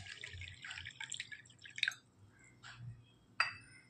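Water added to washed fenugreek seeds in a kitchen bowl for soaking: scattered drips and small splashes, a brief brighter splash near the middle and another near the end, quiet and close.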